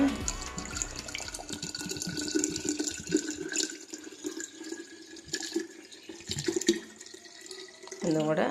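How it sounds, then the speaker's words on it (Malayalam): Water runs and splashes steadily for several seconds, fairly close, with irregular gurgles and clinks and a short burst of voice near the end. "വെള്ളം ഒഴിക്കാനായിട്ട്. ഒഴിക്കട്ടെ."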